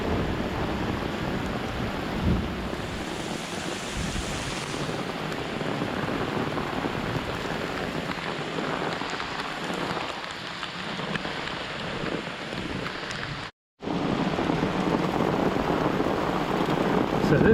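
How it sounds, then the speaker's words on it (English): Heavy rainstorm with wind on the Appalachian Trail, with rain on rain gear and an umbrella, roars as a loud, steady wash of downpour and gusts that continues without pause except for one brief dropout. "the worst storm I've been caught in so far on the AT"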